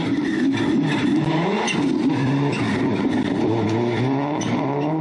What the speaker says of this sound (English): Aaron threads the new TEG car through all the barrels.